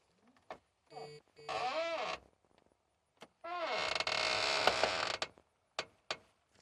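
A truck door hinge creaks in two drawn-out, squealing groans as the door is slowly swung, with short clunks and taps between them, close up and alone.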